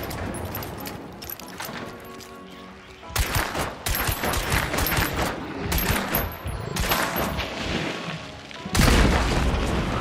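Gunfire in the Hunt video game during a hard-mode horde trial: heavy booming shots and rapid bursts crack out in irregular clusters, loud and close, with a final dense barrage and no speech.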